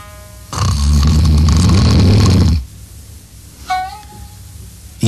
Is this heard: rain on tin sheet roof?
no